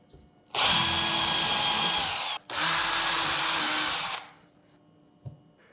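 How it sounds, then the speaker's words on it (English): A power drill bores pilot holes into workpiece material clamped on a SmartBench, two loud close whirring runs of about two seconds each with a brief gap between them, then a short tap. "I'll put in some pilot holes into this material and then I'll screw it down."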